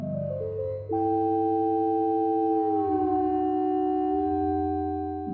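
A pure electronic sine or sawtooth synthesizer tone with harmonics that steps and glides between pitches, holding steady notes in a smooth, sustained drone.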